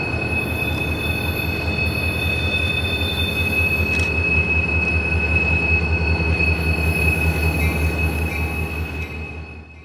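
A Florida East Coast Railway switcher freight train (FEC 960) rolls past near Pompano, with a steady loud rumble of wagons, squealing wheels and a sustained high whine, fading slightly at the end.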